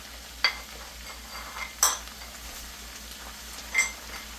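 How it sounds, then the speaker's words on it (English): Parsley and red pepper flakes being mixed into a walnut pasta sauce: three sparse spoon scrapes and clinks against the pan over a faint, steady low sizzle. "I'm going to go ahead and mix in the rest of my ingredients"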